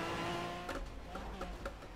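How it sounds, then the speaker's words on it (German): An Aston Martin Vanquish V12 GT3 racing on the Nordschleife in Project Cars, its engine a low, steady drone with a few brief revving surges over the two seconds. "Gefahren wird im Aston Martin"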